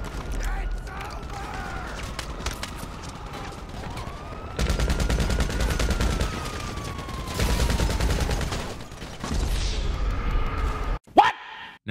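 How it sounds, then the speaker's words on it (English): Gunfire rattles through a gun battle in GTA 5 Online, with bursts of rapid shots and a steady roar of game audio from start to finish and a sharp burst near the end. "me and the tryhard guy have our first real gun battle"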